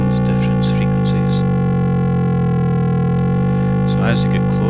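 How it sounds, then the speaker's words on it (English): Intermodulation distortion from two sine waves passed through distortion, a steady buzzing stack of harmonic tones with sum and difference components and a low wobble, loud and unbroken, with brief flutter at the start and near the end. "distortion is causing the generation of sum and difference frequencies"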